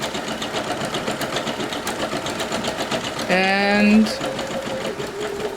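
Singer Legacy SE-300 embroidery machine stitching an appliqué, a steady rapid mechanical whir and clatter running throughout at close range, with a person speaking briefly over it.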